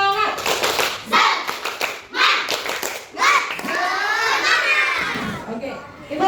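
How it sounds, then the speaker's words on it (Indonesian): Schoolchildren in a classroom do a rhythmic spirit clap, with bursts of hand claps in a pattern alongside loud group chanting and cheering, close and lively. "Ibu lihat dong, tepuk semangatnya terlebih dahulu"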